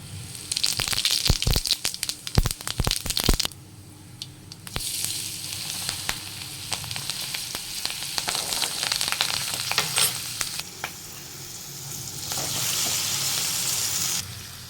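Cut potatoes go into hot oil and are stirred, with a burst of loud crackling and clattering spatula hits at first, then a steady close sizzle with occasional scrapes running throughout.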